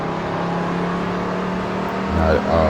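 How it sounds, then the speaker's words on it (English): Ford NASCAR stock car engine racing in a video game on a Formula 1 track in Qatar, a steady high engine drone rising in pitch as it accelerates near the end, with someone talking over it. "Let this Ford engine just do its thing, catching up, go to the inside."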